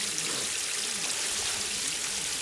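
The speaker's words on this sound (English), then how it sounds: "So now we're just gonna sit here and watch my water tank, continue to pee all over the ground." Water leaking from a Rubbermaid stock tank splashes steadily onto the ground in a continuous, hissing trickle that stays even and fairly close for a couple of seconds.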